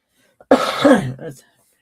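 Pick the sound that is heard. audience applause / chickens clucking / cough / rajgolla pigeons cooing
cough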